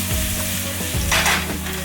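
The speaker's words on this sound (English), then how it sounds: "Let this garlic brown." Garlic browning in canola oil inside a NuWave cooker gives a loud, close, continuous sizzle, with a brief burst of scraping as it is stirred.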